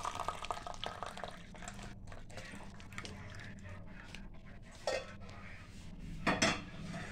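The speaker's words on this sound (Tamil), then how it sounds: "இப்போ நம்ம இந்த பூ வந்து வடிச்சுட்டு இது பாருங்க, இது நல்லா கொஞ்சம் வடிச்சிடும்" Boiled flowers being strained, with water trickling into a vessel amid light clinks and clatter of metal utensils, faint and close.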